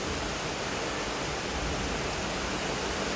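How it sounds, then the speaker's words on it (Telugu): Heavy rain pours down in Hyderabad, a dense, continuous broadband hiss at an even level with a low rumbling undertone and no voices or other distinct sounds. "ఇంక ఏ సౌండ్ లేదు వర్షం సౌండ్ తప్ప"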